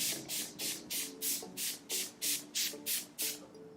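Urban Decay De-Slick setting spray is misted onto a face in about ten quick, evenly spaced bursts, each a close, airy hiss with a soft pump click, and no talking.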